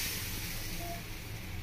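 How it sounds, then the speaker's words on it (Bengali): Gravy poured into a pan of fried spices for village-style chicken curry with pudina sets off a steady, close hissing sizzle that lasts throughout. "ঝোলটা ঢেলে দিচ্ছি"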